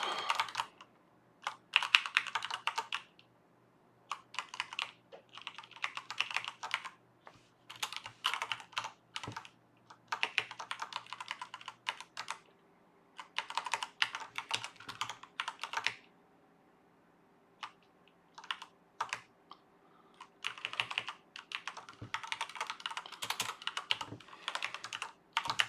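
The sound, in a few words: typing on a computer keyboard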